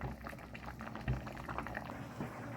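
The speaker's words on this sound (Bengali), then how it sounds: "একটু ঘুটে দেখি।" Dal simmering in a pot, a soft bubbling and gentle liquid churn as a spoon stirs through it, fairly quiet and close, with a faint thump partway through.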